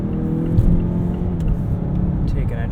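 A 2020 Mazda CX-9 Signature AWD in sport mode accelerates with a steady engine drone and rising harmonics, heard from inside the cabin over road rumble for a few seconds.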